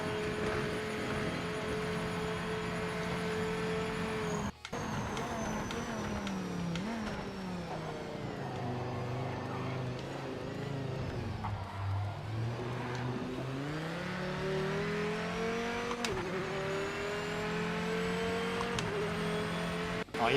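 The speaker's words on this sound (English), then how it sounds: "This is the weirdest car. Slow. It sounds" A race car engine roars in the video game Project Motor Racing, loud and continuous, revving up and down through gear changes with a brief dip near the start and steady acceleration throughout.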